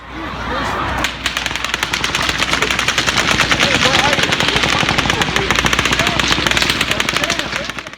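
Rapid bursts of gunfire from the Las Vegas shooting, with sharp supersonic bullet cracks in quick succession, loud and dense throughout, with a faint voice underneath.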